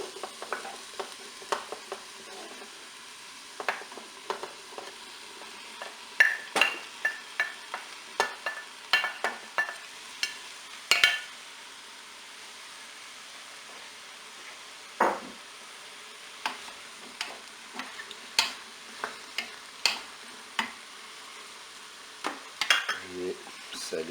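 Chicken sprinkled with paprika stirred in a Cookeo pot, a string of sharp spoon clacks and scrapes against the pot in irregular bursts over a quiet low hum, close and fairly faint, with no talk.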